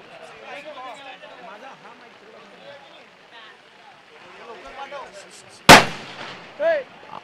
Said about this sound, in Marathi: फटाक्यांची आतषबाजी या ठिकाणी होताना पाहायला मिळते